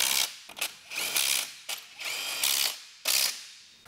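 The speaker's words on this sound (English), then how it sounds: "Here's some more ASMR for your gearbox." Mechanical gearbox clicking from a GO-PED scooter, several loud ratcheting bursts separated by short pauses, close up with no talking.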